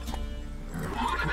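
Roach the horse in the video game The Witcher 3 gives a short neigh, a brief whinny with soft hoof sounds underneath, close and fairly quiet.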